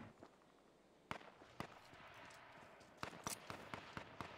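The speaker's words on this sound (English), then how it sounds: "Shots are still coming out." Gunshots in a competitive video game match, a handful of sharp isolated bangs spaced irregularly, then a quicker cluster of shots near the end, faint overall against a quiet background.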